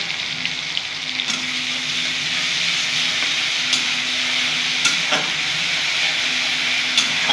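Onion paste fries in a pan with a loud, steady hiss and sizzle, close and continuous. A few sharp ticks and clinks sound from stirring.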